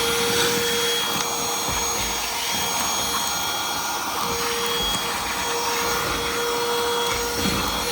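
Vacuum cleaner running continuously and loudly, a steady whooshing roar with a high whine, used while finishing a floor in a remote Yukon Delta building, no talking.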